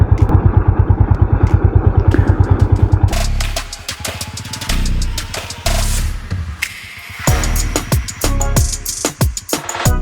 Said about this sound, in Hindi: बहुत धीरे से मैं बाइक को राइड कर रहा हूँ यहाँ पर।